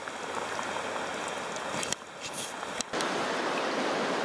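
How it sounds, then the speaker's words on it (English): Bacon bubbles and sizzles in a pot for cheesy potato soup, a dense, steady crackling hiss like rain that drops out briefly in a couple of spots before resuming at full strength. "Bubbling bacon goodness."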